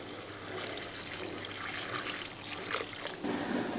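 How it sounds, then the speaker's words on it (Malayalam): Water pours steadily into a cooking pot of pumpkin, a continuous splashing trickle close by with no voices, running for a few seconds. "മത്തങ്ങ വേവാനായിട്ട് ആവശ്യമായിട്ട് കുറച്ച് വെള്ളം ഒഴിക്കാം"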